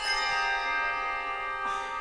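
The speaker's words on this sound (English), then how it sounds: "on the count of 3, everybody try to ring their bell" A church bell choir rings its handbells together on cue, and a soft, shimmering sustained chord hangs and slowly fades at moderate distance, with no talking.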